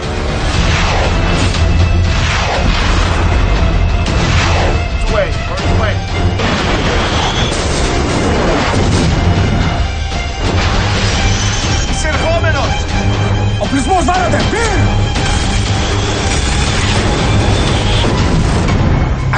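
Naval missile salvo launching from a warship in a TV action scene, with roaring launches and booming explosions, loud and continuous across the scene.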